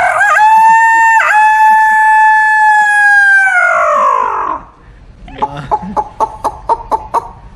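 A man imitates a rooster's cock-a-doodle-doo with his voice: one long, loud, drawn-out crow that fades away, then a quick run of short, clucking pulses.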